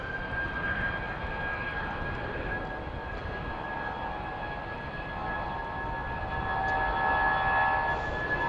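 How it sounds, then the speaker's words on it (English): An Airbus A319 airliner at Heathrow, bound for Frankfurt, gives a steady engine roar and whine, loud and continuous, swelling slightly toward the end. "It's an Airbus 319."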